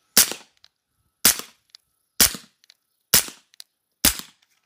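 Five suppressed shots from an M9A4 pistol fitted with a PWS BDE9 suppressor, each a sharp, loud crack with a short tail, fired at a steady pace about one second apart, with faint mechanical clicks after each shot and no talking.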